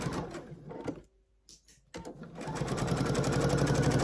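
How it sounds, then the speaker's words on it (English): Domestic sewing machine backstitching a seam on a quilted pillowcase: short stitching bursts, a pause with light handling noise, then a quiet, steady run of rapid stitching at close range. "I'm going to set my machine to backstitch and cut when I'm done here."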